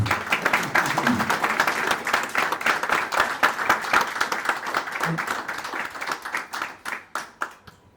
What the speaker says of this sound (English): So a round of applause for Sancha, please.